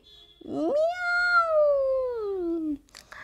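A cat gives one long, clear meow that rises and then slowly falls, followed by a short faint noise at the end.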